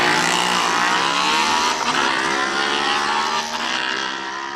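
A KTM-powered Archer RF97 race car sits at the start line of a hill climb, its engine loud and close, holding a steady high-revving drone with slight pitch shifts throughout.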